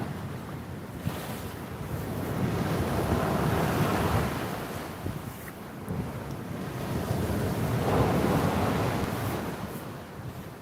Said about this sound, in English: You can probably hear the waves at the bottom of the wall